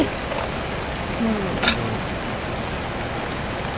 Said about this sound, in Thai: แล้วข้างนอกก็วิวฝนฝนยังตกอยู่ค่ะ